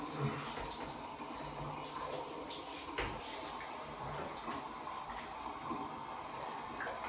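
Water sprays steadily onto a dog during a bath, a close, continuous hiss that runs without a break and with no talking.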